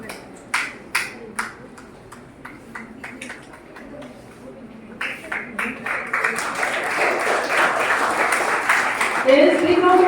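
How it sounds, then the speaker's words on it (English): Students at a school jubilee inauguration break into applause, starting with scattered individual claps and building into sustained, louder clapping from a crowd in a hall. "There is a big round of applause for our students"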